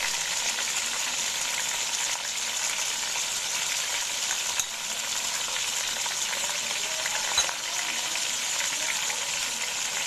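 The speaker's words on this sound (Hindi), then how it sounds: "और फ्राई हम करेंगे मीडियम फ्लेम पे" Chicken tikka boti pieces coated in leftover masala fry in a pan over a medium flame, giving a steady, close, even sizzle with a few faint clicks and no talking.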